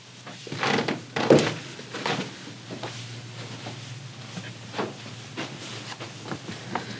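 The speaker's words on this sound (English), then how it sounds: "I think it's the storm door" Storm door of an old house knocking, a couple of hollow thumps early on, then faint scattered taps and creaks at intervals in a quiet room.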